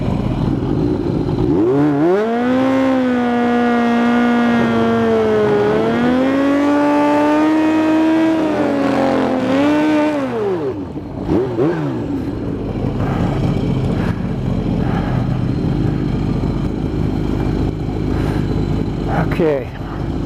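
A Kawasaki ZH2 motorcycle on a new tire launches down a drag strip's green track, its engine loudly climbing and shifting through gears for about ten seconds before settling into a steady, lower rumble.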